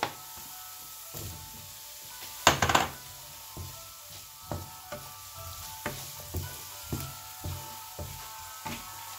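Boiled potatoes frying and being stirred in a pan with chilli powder and turmeric for a potato curry: steady sizzling with repeated scraping knocks of the spoon, one loud burst of sizzle early on, no talk.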